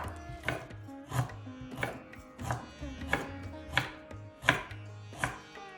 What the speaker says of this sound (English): Peel the skin off the ginger with a spoon and slice the ginger and put this aside.